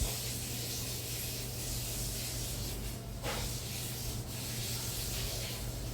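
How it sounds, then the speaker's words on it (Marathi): Methi paratha dough is kneaded by hand after oil is added, giving a continuous, close rubbing and slapping texture with soft squishy variations and no pauses. "तर हे मस्त मळून घेऊया तेल लावल्याच्या नंतर"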